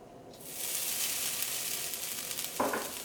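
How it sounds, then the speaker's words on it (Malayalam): Grated coconut roasts in a hot kadai for a prawn theeyal curry, a close, bright sizzle that swells in and holds steady, with stirring scrapes and a brief clink near the end. "ഈ കറിയിലേക്കുള്ള തേങ്ങ വറുത്തെടുക്കാം"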